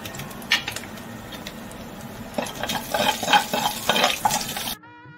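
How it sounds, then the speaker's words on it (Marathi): Cumin seeds crackle in hot oil, a soft sizzle punctuated by stirring and faint utensil clinks that grow busier midway before cutting off abruptly. "त्यामध्ये थोडं तेल घालूया, पण या तेलामध्ये थोडं जिरं घालूया"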